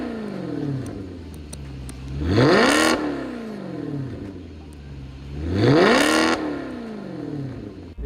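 Maserati Quattroporte S engine and exhaust revved twice from idle, each blip climbing sharply to a loud roar and dropping back to a low rumble, close by with no talking.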